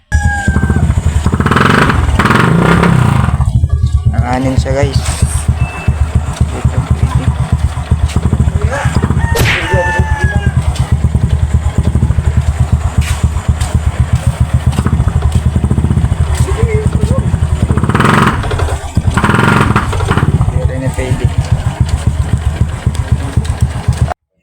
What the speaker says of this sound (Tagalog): pakinggan nyo po ang andar ng motor natin